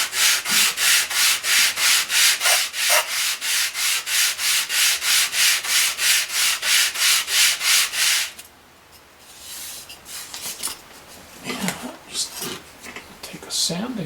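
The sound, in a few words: sanding with a sanding block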